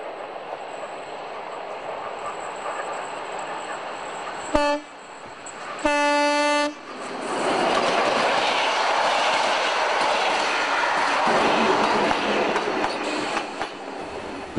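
A train runs along an old railway with a steady rumble and rattling wheels, broken by a short horn blast and then a longer horn blast before the rolling noise continues.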